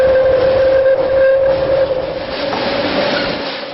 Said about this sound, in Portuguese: Partimos em um trem de subúrbio. Logo cruzamos o túnel do Botujoru.